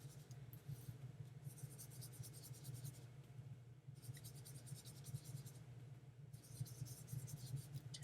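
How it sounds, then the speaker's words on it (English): Mist ink being blended around the edges of a paper card with a blending tool, heard as quiet, scratchy brushing strokes in three separate bursts over a low steady hum. "here I am again, just going around the edges with the mist ink"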